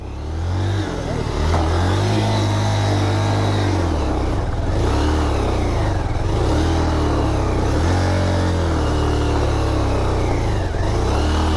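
A motorcycle engine with an uneven throttle revs loudly and close up, its pitch rising and falling irregularly in repeated surges over a constant idle drone.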